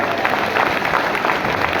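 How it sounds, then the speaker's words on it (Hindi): An audience gives loud, dense applause to welcome a speaker at a public gathering. The clapping is brief and crowded, with no clear talk over it. "जोरदार तालियों पे स्वागत करें"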